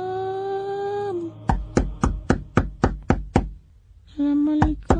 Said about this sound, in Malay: ketuk tingkap pula